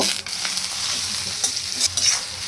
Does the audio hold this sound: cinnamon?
yes